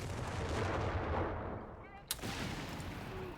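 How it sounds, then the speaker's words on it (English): Mortar fire in a Company of Heroes 3 2v2 match: a dense, dull rumble of distant explosions and battle noise, with one sharp nearer blast partway through. "Got some mortar fire."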